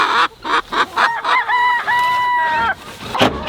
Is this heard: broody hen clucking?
yes